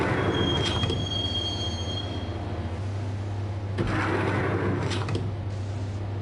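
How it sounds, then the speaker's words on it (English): A train rides the rails in the Max Payne video game, with a steady low rumble of wheels, a thin high squeal early on, and a few clanks as the car rolls on. "the train doors had already shut behind me, and I was in for the ride"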